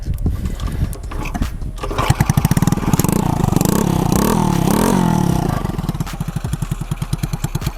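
A modified Dutch-colonial-era motorcycle with no battery or ignition key starts up and runs with a loud, steady engine clatter, ending in rapid rhythmic putting pulses, close by and with no talk over it.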